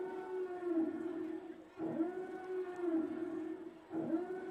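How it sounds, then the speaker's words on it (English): A steady wailing stadium siren at a high school football game in Old Bridge, with a low hum that rises and resets in repeated cycles, sounding distant and drawn out. "The siren sounds here in Old Bridge."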